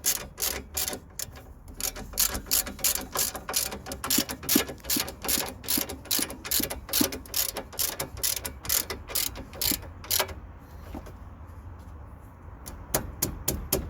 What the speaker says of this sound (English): So we're gonna use a 17mm socket to tighten it.